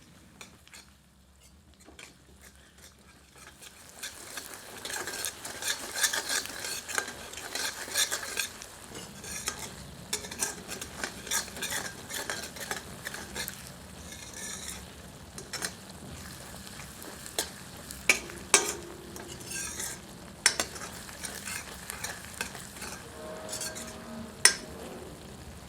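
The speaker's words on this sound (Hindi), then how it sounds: "सबको मिलाकर 1 से 2 मिनट मध्यम आंच पर भूनते हैं" Garam masala, Kashmiri chili powder and other spices stir-fried in a pan over medium heat for an egg masala, a close soft sizzle broken by frequent scraping and clinking of a spoon against the pan.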